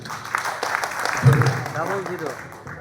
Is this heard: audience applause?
yes